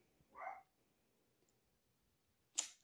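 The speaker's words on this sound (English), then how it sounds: "You hear the dogs in the garage?" Dogs shut in a garage give a single muffled bark, then a sharper, brief yelp after a quiet gap, both distant and faint.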